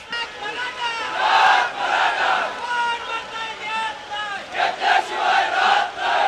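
A huge Maratha protest crowd in Navi Mumbai chants the name of Chhatrapati Shivaji Maharaj, a dense swelling roar of many voices rising and falling in rhythmic waves, close and loud throughout.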